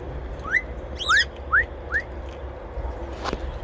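Parrots whistle outdoors in an aviary. Four rising whistled calls come in quick succession, moderately close, over a low ambient background, followed by quieter calls.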